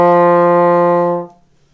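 A trombone holds a single steady brass note, loud and close, then cuts off cleanly with a short fade into near silence.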